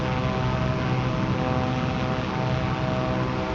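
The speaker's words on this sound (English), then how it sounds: "I heard the helicopter" A Chinook H-47 helicopter in a flight simulator game drones with a steady, loud rotor and engine hum, constant and unbroken for a few seconds with no talking.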